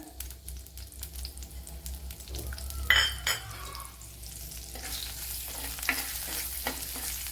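Garlic, green chillies and chopped ginger frying in coconut oil, with a steady close sizzle and crackle all through, plus a brief stirring scrape near the middle and a light utensil clink later.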